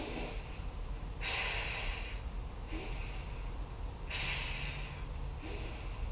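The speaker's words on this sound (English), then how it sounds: "Breathing in and breathing out through the mouth." Slow, steady breathing in and out through the mouth during a Pilates exercise, with broad airy exhales swelling and fading in a regular rhythm, close and fairly loud with no talking.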